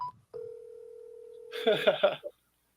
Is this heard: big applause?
no